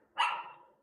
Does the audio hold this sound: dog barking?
yes